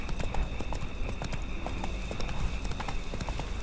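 Horse hooves clip-clop steadily on a road in The Witcher 3 video game, a continuous rhythmic trot at moderate loudness over ambient game background, with no talking.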